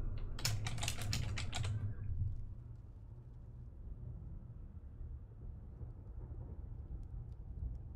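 Rapid keyboard typing from a World of Tanks live stream, a quick burst of close clicking keystrokes lasting about two seconds, then stopping, leaving a low steady background rumble.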